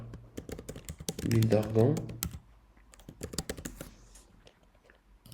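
Typing a search on a computer keyboard, a steady run of close crisp keystrokes with someone speaking French briefly in the middle, then more clicking alone.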